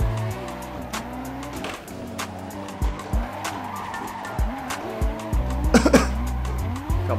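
Sim-racing car drifting on track with rear tires at raised pressure for less grip, engine droning steadily while repeated loud tire squeals and skids burst out in rhythmic waves, growing louder near the end.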